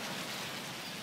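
Steady, dense hiss of rain falling outside, even and close throughout the short stretch, with no voices.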